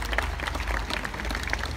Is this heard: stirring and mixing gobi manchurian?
no